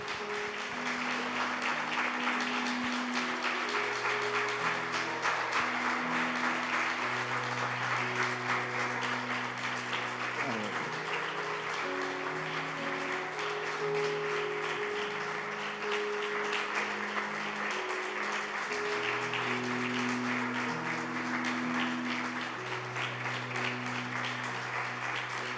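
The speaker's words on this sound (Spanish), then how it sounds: "Dele un aplauso al Señor." A church congregation at a healing and deliverance service applauds steadily and loudly throughout, with sustained keyboard or organ chords ringing underneath.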